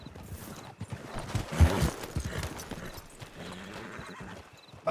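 A horse in a video game clip-clops along with steady hoofbeats, and a whinny rises briefly midway at a moderate level.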